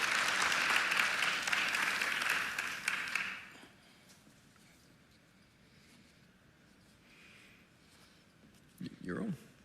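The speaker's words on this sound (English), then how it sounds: "We guys give Justin a round of applause" An audience at a church accountability group meeting gives Justin a burst of loud, dense applause that lasts about three and a half seconds and then drops away to a quiet room, with a brief voice near the end.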